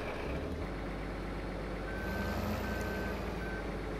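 Loader scooping gravel in Farming Simulator 2015, with a steady droning truck engine and a repeating electronic reversing beep heard clearly and continuously throughout.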